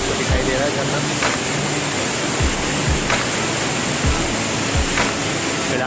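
Steady, dense rushing water roars continuously from a nearby waterfall near Kasol in Himachal Pradesh, with a few faint low thumps beneath the broadband wash.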